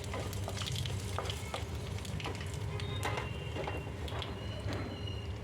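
A dried red chili, a torn bay leaf and nigella seeds sizzle in hot oil for a Bengali tel koi fish curry, a soft continuous crackle with scattered small pops and faint stirring clicks, no talk.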